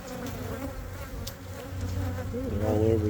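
Honeybees swarm around an opened, queenless hive, their buzzing a continuous close drone with individual bees passing near and fading, the hum growing slightly louder toward the end.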